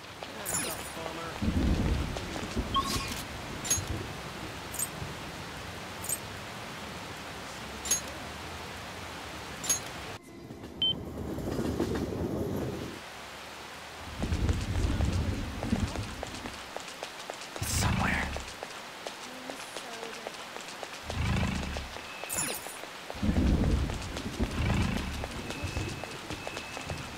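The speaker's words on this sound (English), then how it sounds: "What a heavy storm." Heavy rainstorm with thunder in the Persona 5 Royal video game: continuous rain hiss broken by several loud, rolling low booms and sharp crackles, with brief quiet gaps between surges.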